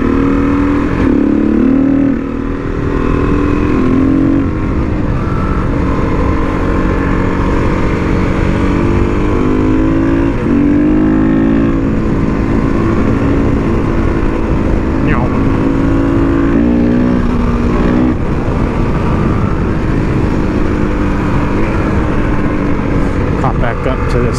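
A Husqvarna SMR 510 motorcycle engine runs loud and close throughout, its tone climbing and dropping as the throttle is opened and closed repeatedly, with a rider talking over it.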